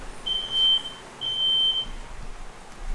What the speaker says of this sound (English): I can hear that beeping in the background. It sounds like a fire alarm